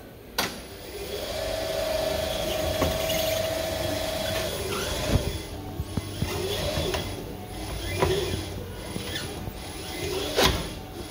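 A tyre changing machine works on a 14 inch motorbike tyre in a workshop, with ratcheting mechanical clicks, a brief sustained squeal and several sharp knocks over a steady background hum.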